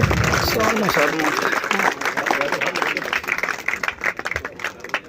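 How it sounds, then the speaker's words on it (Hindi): Audience applause at a public function in Saini Nagar, marking a new school building project, a dense burst of clapping that thins after a couple of seconds, with a voice speaking over part of it. "आओ जोरदार तालियां बजाइए।"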